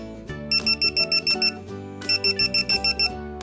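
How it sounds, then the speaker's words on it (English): A bedside bedwetting alarm, triggered by a moisture-detecting mat, sounds two runs of rapid electronic beeps, about eight pulses each, loud and close over a sustained electronic tone. "the mat detects urine and triggers the alarm to alert the user"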